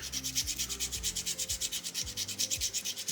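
Sandpaper worked by hand over a small soapstone owl carving, giving quick, regular back-and-forth rasping strokes, about seven per second, close and fairly loud, with nothing else audible.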